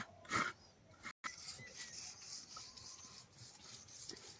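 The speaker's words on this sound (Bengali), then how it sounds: "এই যে নারকেলটা আমি কুড়িয়ে নিচ্ছি" Coconut is grated by hand, a faint, steady scraping and rubbing with one louder scrape near the start and soft irregular strokes continuing throughout.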